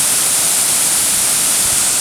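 A foamy, noisy waterfall pours in a steady, loud broadband rush with no breaks, close by and unaccompanied by any voices.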